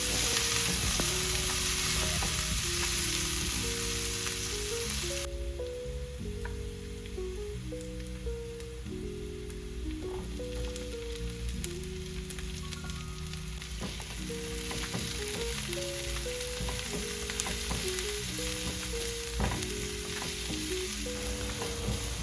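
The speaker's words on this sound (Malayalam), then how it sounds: "പാൻ ചൂടാക്കി ബട്ടറും സൺഫ്ലവർ ഓയിലും ആഡ് ചെയ്ത് ചെറുതായി അരിഞ്ഞ ഗാർലിക് ഇട്ട് ഒന്ന് സോട്ട് ചെയ്ത് സവാള പിന്നെ ക്യാപ്സിക്കം കൂടി ആഡ് ചെയ്ത് നന്നായിട്ടൊന്ന് വഴറ്റിയെടുക്കാം." Garlic, onion and capsicum sautéing in butter and sunflower oil in a heated pan, a steady sizzle running throughout beneath prominent background music, with no talking.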